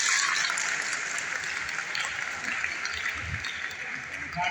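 Audience applause at a Punjabi literary conference honoring Waris Shah in Sheikhupura, a sustained crowd clapping that holds steady and slowly eases, with a faint voice near the end.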